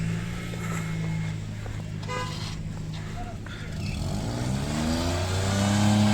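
A Tata Nano drives along a snowy road in a Srinagar snowstorm, its engine rising as it accelerates and draws closer, amid street rumble, a horn toot and people talking.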